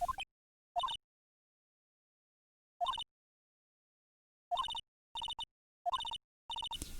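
A clock shaped like the Thinker statue in the Phoenix Wright: Ace Attorney video game, ringing in short electronic bursts of chiming tones separated by silences, clear and close.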